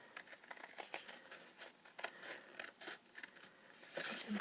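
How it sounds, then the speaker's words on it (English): Scissors snip through paper card while trimming a curved shaped card for a Design Space project, giving a run of close, crisp cuts and rustles at a steady, uneven rhythm. "So I'm actually going to use my scissors on this one"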